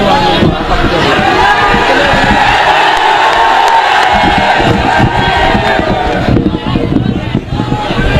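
A loud crowd at a Hindi poetry gathering (kavi sammelan) bursts into sustained clapping mixed with cheers and shouts, a dense roar of hands and voices filling the hall, close and continuous throughout.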